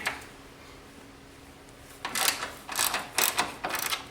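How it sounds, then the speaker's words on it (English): Ratchet clicking as bolts are loosened on the strut brace of a 2021 BMW M440i, a quiet start followed by several close, bursty bouts of rapid ratcheting, with no talking. "let's get started by taking these bolts out of the strut brace first"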